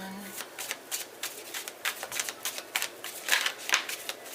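Tarot cards shuffled by hand in a quick series of crisp riffling bursts, close and moderately loud, with a short stretch of voice at the very start.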